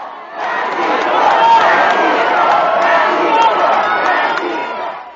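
A large crowd massed in front of a church waiting for the pope: a steady, loud roar of many voices, shouts and cheers that swells and holds, with a voice speaking over it.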